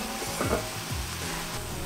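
Steady broadband sizzling as water is added to a hot pan with garlic, chili and aubergine for pasta sauce, loud and close, with faint scraping or stirring movements underneath.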